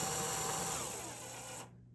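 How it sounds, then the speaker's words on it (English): A power drill fitted with a hex bit drives a zipbolt tight during a balcony railing install, giving a steady loud whirring burst that runs about a second and a half and then cuts off abruptly. "Then I'm just going to simply grab the drill with the hex bit,"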